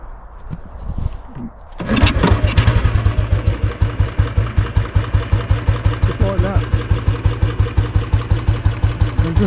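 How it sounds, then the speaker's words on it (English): A Royal Enfield 350 motorcycle is kickstarted after some quiet shuffling and a voice nearby, catching at once with a burst of revs, then settling into a loud, close, steady thumping single-cylinder idle. "It doesn't take any effort to kickstart it at all."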